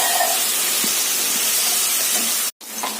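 Water poured onto drumstick stems frying in oil in a pan gives a loud, dense steam hiss at close range, broken by a brief cut near the end before the hiss resumes.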